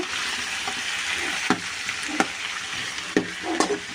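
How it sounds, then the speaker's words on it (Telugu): A spatula stirs tomato chutney mixture in a pan, giving a steady sizzling fry with a few sharp scrapes and knocks against the metal, close and fairly loud, no voices. "ఇదో ఫ్రెండ్స్ ఇట్లా నీట్గా అంత మొత్తం కలిసేలాగా కలుపుకోవాలి"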